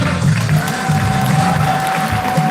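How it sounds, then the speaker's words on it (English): A loud, dense round of applause and cheering from an audience, sustained throughout without a break. "let me hear your round of applause for Michael"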